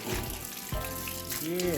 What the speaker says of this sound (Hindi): अब आप देख सकते हैं कि पंप पानी देने लगा है।